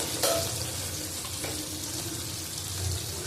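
Slit okra sizzles as it fries in oil in a pan, a steady close hiss with a few faint clinks and scrapes, no talking.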